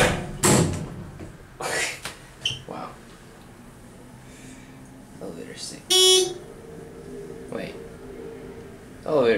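A ThyssenKrupp Impulse hydraulic elevator door in a Bay Street building in Emeryville, California slams into place with a loud, sharp bang, standing out against a quiet background with a few other clunks and soft speech.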